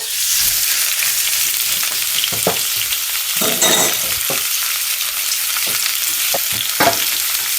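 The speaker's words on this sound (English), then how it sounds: "Add a little oil, and we are going to saute shrimp" Shrimp sautéing in oil in a wok for kung pao shrimp, a loud, continuous sizzle with occasional scraping stirs and clinks over it.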